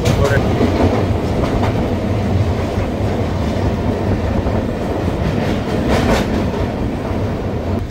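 A passenger train runs on rails, a loud steady rumble of wheels with rhythmic clickety-clack beats heard from inside the carriage, with faint voices in the background.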